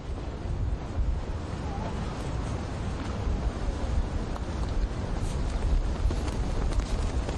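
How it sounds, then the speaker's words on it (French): Steady wind roars across the Atlantic coast at Essaouira, a constant broadband rush with low rumble, mixed with surf, unbroken and fairly loud for the whole stretch. "parce qu'ici, il y a du vent tout le temps"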